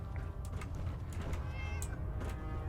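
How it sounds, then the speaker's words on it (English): A cat meows in Fallout 4 gameplay, a few short mewing calls over a constant low rumble of game ambience, clear but not loud. "Oh, I hear a cat."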